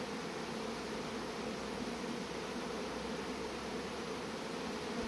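Honeybees at a hive that is getting ready to swarm, a faint but continuous buzzing hum that stays steady throughout, with no voices over it.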